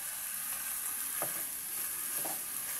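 Garlic and onion fry in a pan for a beef dish, giving a constant soft hiss of hot oil with two quick stirring scrapes; fairly quiet and without speech.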